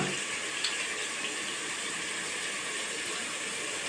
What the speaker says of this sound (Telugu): ఒక రెండు చెంబులు వాటర్ వేసుకోండి